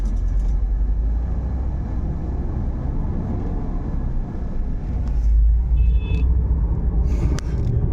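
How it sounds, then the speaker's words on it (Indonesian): Inside a moving Limputcher intercity bus, a steady low engine and road rumble carries throughout with faint rattles and a few brief high clicks, and nobody speaks. "Ini saya naik bus Limputcher ini baru pertama kali saya naik bus Limputcher ini nih."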